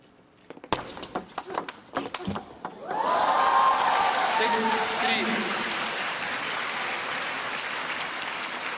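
Applause from a crowd at a women's table tennis semifinal, loud sustained clapping that swells in suddenly after a few sharp ball and footstep sounds and carries on steadily to the end.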